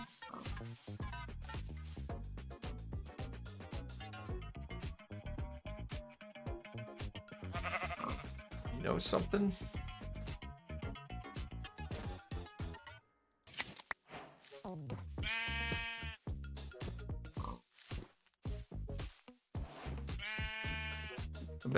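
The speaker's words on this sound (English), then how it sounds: "I hear a sheep." Sheep bleating in a video game, two separate drawn-out bleats in the second half, following a stretch of game sounds and brief talk.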